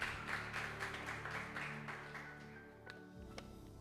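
A church congregation claps together in broad, sustained applause with no talking over it. It stays dense for most of the stretch, then thins toward the end, leaving a few scattered claps.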